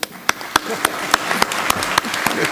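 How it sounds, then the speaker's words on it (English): Audience applause at the African Ministerial Conference on Environment in Nairobi, with a steady wash of many hands and sharper individual claps standing out at a fairly even rhythm throughout. "C'est notre collègue, on l'applaudit."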